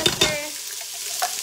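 Onions tossed into a pan for a corn chowder start to fry in oil, giving a soft, steady sizzle after a couple of brief stirring knocks at the start, fairly quiet and with no talk.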